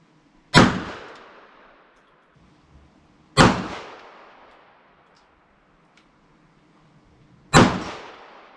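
Three loud, sharp gunshots fired from stored ammunition rounds, evenly spaced about three seconds apart, each with a ringing decay into near silence outdoors.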